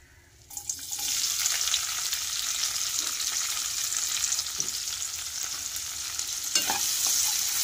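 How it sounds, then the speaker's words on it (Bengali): Chopped onions sizzle in hot oil in a pan with cardamom and cloves, a steady dense frying hiss starting after a brief quiet moment and carrying on loud and close, with a few stirring scrapes. "প্রায় পেঁয়াজগুলো ভাজা ভাজা হয়ে গেছে"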